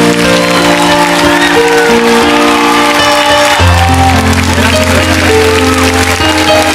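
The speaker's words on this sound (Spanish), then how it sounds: "Fuerte el aplauso para un grande que se nos va de parodiando definitivamente." A television studio audience on the Mexican show Parodiando applauds loudly and steadily for a departing performer, with scattered cheers over music.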